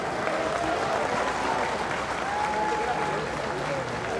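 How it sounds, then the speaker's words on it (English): Crowd applause at a bare knuckle fighting event at a fair expo center, a continuous broad wash of clapping and crowd noise from a large arena audience, steady and moderately distant. "let's have a nice round of applause for both warriors"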